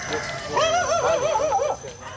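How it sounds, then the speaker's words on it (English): A dog nearby in a Bali village lets out a short, high whining bark that wavers in pitch, heard alone for about a second. "Everywhere is a chorus of dogs and roosters"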